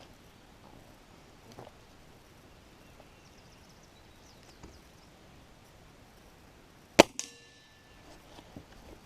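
A single sharp crack from a Gamo Whisper air rifle fired at a target, crisp and brief with a short ringing tail, standing out against a quiet outdoor background with faint rustles.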